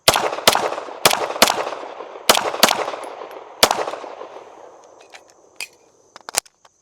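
Rapid shots from a Staccato HD P4.5 pistol fitted with an extended magazine: about eight loud, sharp reports in quick succession, then fainter clicks and rattles trailing off.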